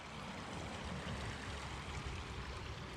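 Steady creek water rushing over bedrock in West Virginia, a continuous broadband flow with no pauses, close and moderately loud, with no voices.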